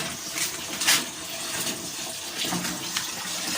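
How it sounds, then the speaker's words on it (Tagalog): Water rushes steadily through a hose fed from a well, a close, continuous broadband splashing flow with no voices. "papakita ko na sa inyo yung hose namin ay mayroon ng lamang tubig"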